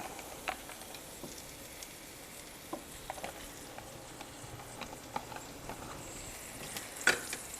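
Food frying in oil in a pan while it is stirred, a soft continuous sizzle with scattered light scraping taps and clicks, quiet and fairly close.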